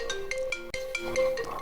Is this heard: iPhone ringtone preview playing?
yes